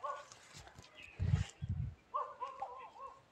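A dog barks twice in quick succession, fairly close, followed by brief harmonic yelps or whines over faint background noise.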